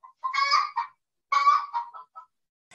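A phone ringtone made of chicken sounds gives two close, clear bursts of squawking, honk-like clucks with brief silence between them and no talk.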